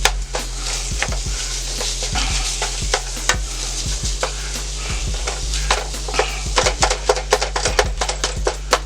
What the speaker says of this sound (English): Get our ground beef in there. And we're going to let that cook for a little bit.